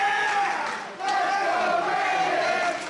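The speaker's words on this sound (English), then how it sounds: "Crowd chanting for Brandon Lee." A wrestling event crowd chants steadily for wrestler Brandon Lee, a loud, sustained mass of voices with a brief dip before swelling back up and carrying on to the end.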